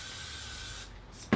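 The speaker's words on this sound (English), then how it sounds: "I'm gonna take some hairspray," Hairspray hisses steadily from a can onto a synthetic wig in one continuous, fairly close spray that cuts off near the end, followed by a short knock.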